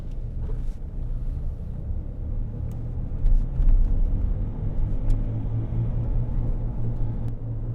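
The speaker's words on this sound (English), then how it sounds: "We've got a wheel bearing noise there." Wheel bearing noise from a 2008 Land Rover Discovery 3 2.7 TD V6 on the move, a continuous low droning hum with steady road rumble inside the cabin, fairly loud and unbroken, with no talking.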